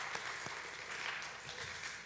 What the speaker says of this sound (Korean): 자신 있게 한번 박수 한번 쳐주시고